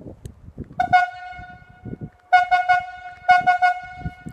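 Rigging whistle signals from a standing skyline cable logging operation: two quick toots, then after a gap a burst of four and another of four, sharp and loud over light background noise.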